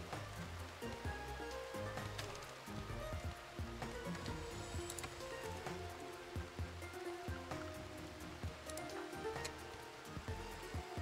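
Rain falling in a video game colony-building world, a soft, steady patter with scattered drips, quiet and continuous with no voices.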